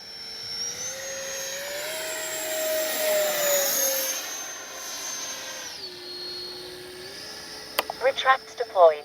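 A Freewing 90mm F4 Phantom II RC jet makes a fast pass on a warm day, its steady high whine rising and bending in pitch as it sweeps by, then settling, with a few sharp clicks near the end.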